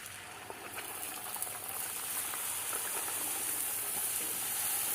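Puris deep frying in hot oil, a soft continuous bubbling sizzle and hiss that grows slightly louder over a few seconds, fairly quiet and steady with no talk.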